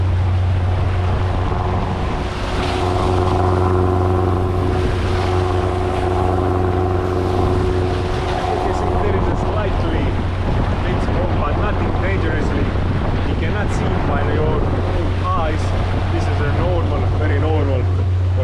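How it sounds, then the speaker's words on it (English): A Bavaria 45 Cruiser yacht's engine roars steadily at maximum revs, around 2650 rpm near 8 knots, loud and droning, with wind buffeting the microphone and a voice talking over it. "forcing the engine to maximum."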